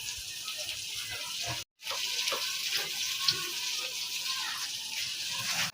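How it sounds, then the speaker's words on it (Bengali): Eggplant fries in a covered pan, giving a continuous close sizzling hiss that drops out for a split second and then carries on evenly. "এবার চাপা দিয়ে দেবো, বেগুনটা ভাজা হবে।"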